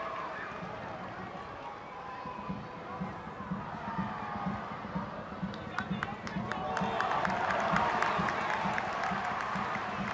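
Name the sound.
football crowd shouting for a shot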